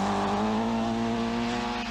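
A 1.9-litre Peugeot 205 rally car on a British Open Rally Championship stage in 1988, its engine holding a steady, loud, high-pitched drone that continues without a break.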